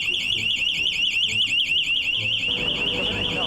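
A piercing fire alarm wails continuously with a rapidly warbling tone, sounding close and loud while voices speak beneath it.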